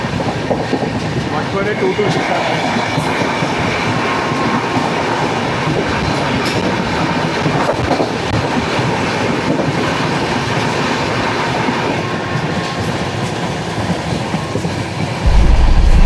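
The 16334 Trivandrum Veraval Express rolling along rails between Rajkot and Veraval, a steady loud rumble with rhythmic clickety-clack of wheels, heard continuously from on board, with voices faint beneath.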